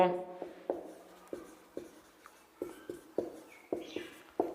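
Chalk or marker strokes on a classroom board during a Hindi-language maths lesson on circles, about a dozen short, evenly spaced taps and scrapes, close and clear, with no talking over them.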